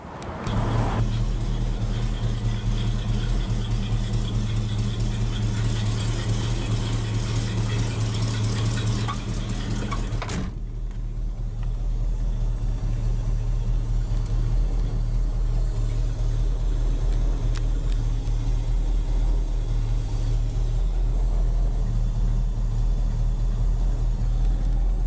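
A 1973 Ford Mustang Convertible engine idles steadily and loudly up close, a deep even rumble that continues with a brief dip around the middle, with no talking.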